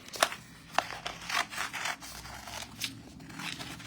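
Scissors cut around a paper transfer meant for an elegant wooden serving tray made from scrap wood. A few close, quiet snips and rubbing rasps are heard at an uneven pace.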